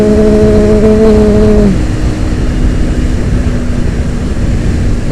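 A motorcycle ridden fast on a road near Kuningan, West Java, with loud, steady wind and engine roar throughout and a rising engine tone that drops away partway through.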